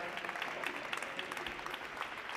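Continuous applause from the crowd at a startup demo day, a steady wash of many hands clapping at moderate loudness, somewhat distant, with no clear talk over it.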